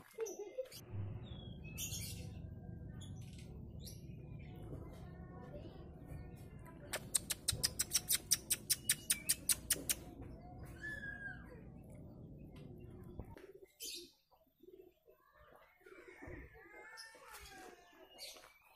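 Kacer (oriental magpie-robin) birds chirp and whistle in sharp bursts over a steady low hum, with a fast rapid-fire trill in the middle and scattered calls toward the end.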